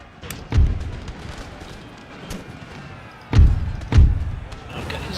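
Infantry muskets fire in volleys in Empire Total War, Prussian army on a modded battlefield: one booming volley early, then two heavy volleys close together later, with sharp crackles and a low battle rumble between them.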